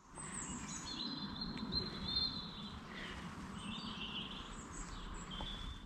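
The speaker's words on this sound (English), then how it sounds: "all the different birds singing their thanks for the day?" A chorus of birds sings at dusk beside Grasmere and Rydal Water in the Lake District. Several high chirps and warbling phrases overlap against a quiet, distant ambient hum, with no talking.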